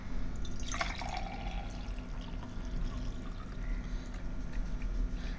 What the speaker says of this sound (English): Now I am pouring the water.